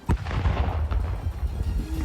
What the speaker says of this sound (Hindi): इस दौरान वहां तेज धमाका हुआ।